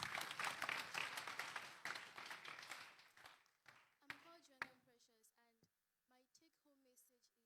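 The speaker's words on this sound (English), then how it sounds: "Okay, we are clapping for some people, we're not clapping for others." An audience at a leadership seminar claps in a fairly loud burst that thins out and fades after a few seconds, giving way to a person speaking.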